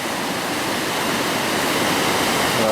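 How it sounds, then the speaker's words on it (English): The River Tummel in spate runs near a power station, a loud, steady broadband roar of rushing water that holds unbroken from start to finish with no voices. "That's the River Tummel, which is in spate at the moment."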